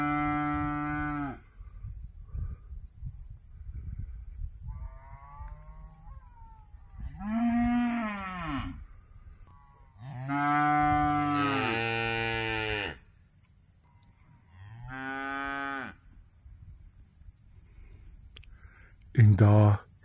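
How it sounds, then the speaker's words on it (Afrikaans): Cattle in a farm kraal lowing, several long, loud moos spaced irregularly over quiet stretches, with crickets chirping steadily in the background. "So klink beeste in 'n kraal."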